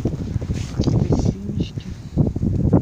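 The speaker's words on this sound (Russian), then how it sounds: "О, как все треплет. Ветер." Gusty spring wind in Kyrgyzstan buffets the microphone outdoors in low rumbling bursts, while a person speaks briefly over it.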